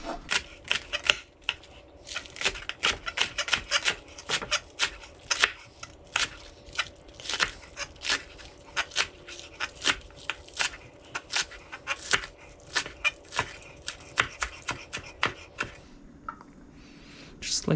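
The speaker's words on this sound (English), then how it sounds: "And slice it down the middle." A kitchen knife cuts through green onions while preparing a Vietnamese green mango salad, making many crisp, rhythmic chopping taps on a cutting board. The taps are close and fairly loud, with a short pause near the end.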